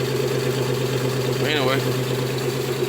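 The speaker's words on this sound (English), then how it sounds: "y'all hear it. Misfire." A 1990 Toyota 4x4 engine idles rough with a misfire, a steady low hum close by that runs throughout, while someone talks over it briefly.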